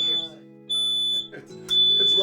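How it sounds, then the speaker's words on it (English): A home smoke alarm sounds its test signal: loud, piercing electronic beeps in long bursts, one brief, then two sustained, with people talking underneath. "Press the test button, and if the alarm sounds"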